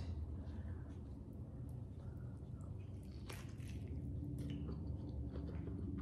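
Someone bites and chews thick Bahamian lobster from a seafood boil, with close, soft wet squishes and occasional crunchy bites over a low background hum.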